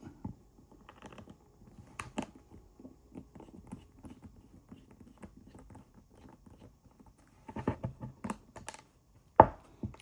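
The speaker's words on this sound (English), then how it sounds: "you're going to need to unscrew these 3 bolts with the star T4 bit" Small screws on an Apple AirTag holder in a Ridge wallet are unscrewed with a star T4 bit, giving faint close clicks and light scratchy ticks, with a louder cluster of taps near the end and one sharp knock.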